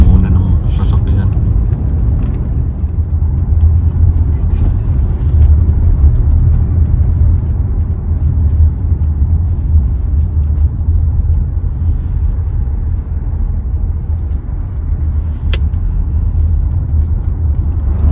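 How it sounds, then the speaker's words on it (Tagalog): Heavy car traffic on a busy road in the Philippines near an airport, a loud steady low rumble of many engines throughout, with voices talking over it. "Puno na ng sasakyan."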